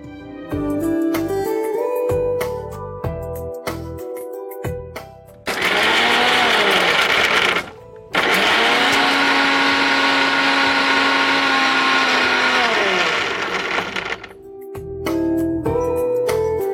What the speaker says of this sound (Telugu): ఇప్పుడు కొన్ని వాటర్ వేసి మనం దీన్ని మిక్సీ పట్టేసుకుందాం